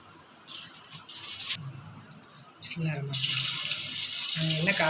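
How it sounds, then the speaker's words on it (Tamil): Cooking oil is poured into a pan for frying soya chunks, with light clinks and handling first, then a continuous close pouring stream. "நம்ம சோயா 65 செய்கிறதுக்கு ஆயில் ஊற்றிக்கலாம்."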